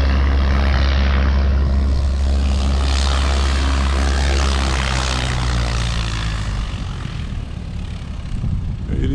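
An aeroplane at Cape Town International Airport gives a loud, steady engine roar with a deep low drone that fades partway through, leaving a broad rushing sound, heard up close and without talk.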